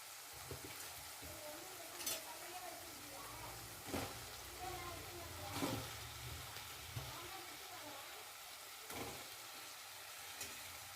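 Drumsticks added to a cooking tomato and onion mixture sizzle softly in a pan, with a steady faint frying hiss broken by several sharp scraping strokes of a spoon stirring.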